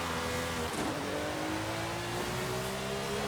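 Sesto Elemento supercar engine in the Forza Horizon 5 racing game, a steady high revving drone with a slowly rising pitch, loud and continuous with no talk over it.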